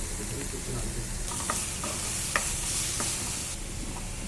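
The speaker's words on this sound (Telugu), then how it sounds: "అది కూడా వేసి వేసేవాలి మొత్తం వేసేసి బాగా తిప్పుకోవాలి" Prawn curry with masala being stirred in a frying pan, a steady sizzle with a few soft scraping stirs, close and alone with no talk.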